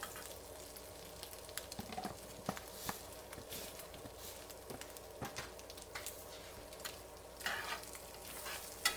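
Flour cooking in sausage fat in a hot cast iron skillet, a soft continuous sizzle broken by scraping and stirring clicks of a utensil against the pan, fairly quiet throughout.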